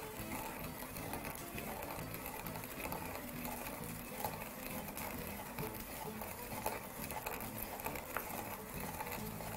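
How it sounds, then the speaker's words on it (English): Coriander seeds being gently crushed and ground in a pestle and mortar, a continuous gritty scraping and rubbing that carries on steadily throughout. "Making sure to crush all of your seeds."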